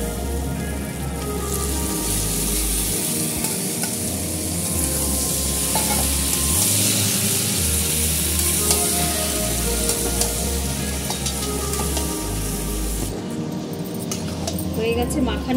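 Peas for Bengali-style ghugni stirred and fried in spice masala, a loud steady sizzle with repeated spoon scrapes and clinks against the pan, with some talking over it.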